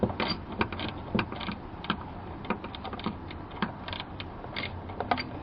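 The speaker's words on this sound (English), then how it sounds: "so that the ratchet will catch" A ratchet backs out a screw near a car door frame during a Pontiac Solstice battery removal, giving rapid, irregular close clicking and creaking pawl ticks throughout.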